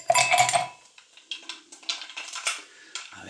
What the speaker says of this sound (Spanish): Echamos unos hielitos. Venga, unos hielitos al vaso.